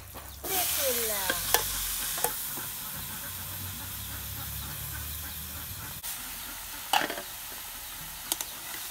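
Fish curry being sautéed in a pan, a loud continuous sizzle and steamy hiss under repeated stirring and scraping strokes, with a few sharper clanks of the utensil against the pan.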